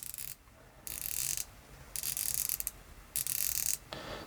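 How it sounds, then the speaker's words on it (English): A Cronos L6005 dive watch's 120-click bezel is turned in several bursts of rapid, fine ratcheting clicks separated by short pauses, close up and alone. "These both come with 120 click bezels, so let's just have a quick sound off of this one."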